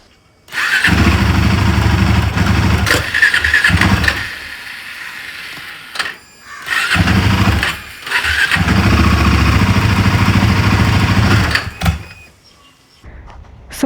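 A broken-down motorcycle on a Nepal ride being cranked repeatedly without catching: several long, loud bursts of starter churning and sputtering engine noise separated by short pauses, close by, with no talk.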